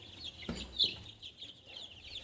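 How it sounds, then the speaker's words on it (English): Chickens on a farm give a couple of soft, brief clucks, fairly close but quiet, with little else around. "got some new chickens"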